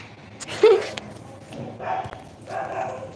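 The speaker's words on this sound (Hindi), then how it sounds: "इधर कुत्ते भाई है क्या?" A dog gives a few short, separate barks at moderate distance, spaced out over a few seconds against a quiet background.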